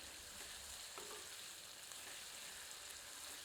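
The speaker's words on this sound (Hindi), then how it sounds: "तीव्र आंच पर प्याज को भूनते हैं और धीरे धीरे करछी चलाते रहते हैं ताकि यह समान रूप से भुने" Onions frying over high heat in a pan, giving a steady, close hiss of sizzling oil with faint scraping as a ladle stirs them slowly; no voices.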